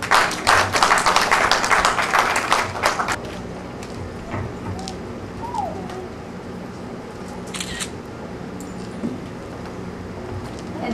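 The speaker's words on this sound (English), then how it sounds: "Can we give them another round of applause?" A church congregation at All Saints Anglican Church in Quincy claps for graduates on Education Sunday, a dense burst of applause for about three seconds that then thins out, with faint camera clicks afterwards.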